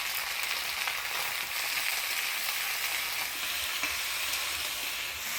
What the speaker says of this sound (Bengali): হলুদ লবণ দিয়ে ভালোভাবে নাড়াচাড়া করে নিলাম